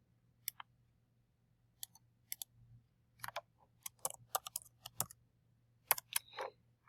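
Someone types on a computer keyboard in short irregular bursts of crisp, close key clicks with brief pauses between, over a faint steady hum in a quiet room.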